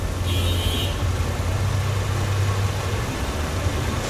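A Honda car engine idles roughly with a shaking fault, a steady low rumble with a slight wavering throb, heard up close and alone.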